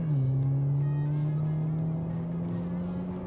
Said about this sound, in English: why don't we find out together how quickly it'll do the run. Let's floor it